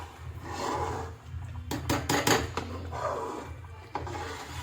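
Ghee being stirred into semolina halwa in a pan, with continuous rasping, scraping strokes close by and a brief cluster of sharper scrapes midway, no talking.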